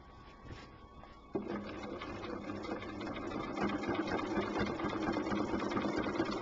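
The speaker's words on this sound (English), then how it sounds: "I'm going to go ahead and stitch nicely right around that border." A quilting machine runs steadily while stitching a circle around the border of a row-by-row quilt block, a continuous mid-pitched motor hum with rapid needle rhythm that begins after a brief quieter start and holds close and even.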